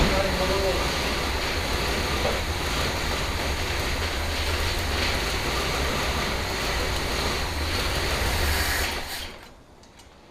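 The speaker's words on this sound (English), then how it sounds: "Sounds like it's running a little lean on the choke." A 1966 Ford Galaxie 500 convertible engine idling on choke during a restoration start-up, a steady, close rumble with hissing texture that holds evenly for about nine seconds before cutting off abruptly.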